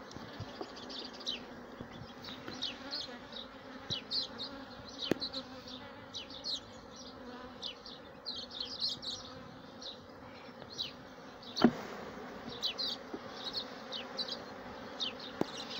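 Honeybees buzz steadily around an opened hive during a beekeeping inspection, a dense continuous hum with individual bees darting close by. Occasional soft knocks sound beneath it.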